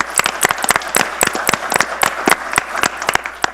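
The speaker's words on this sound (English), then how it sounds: "So you can clap for that." Scattered applause from a small audience at a town council meeting, sharp individual claps close by, irregular and fairly sparse, lasting a few seconds with no talk over it.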